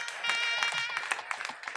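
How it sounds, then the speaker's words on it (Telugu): A crowd claps for the Bhadrachalam team at an awards function of an all-India conference, a short burst of fairly close, brisk applause mixed with tapping. "Great applause far Bhadrachalam."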